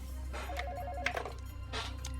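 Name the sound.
telephone ringing as a call is placed to an ambulance service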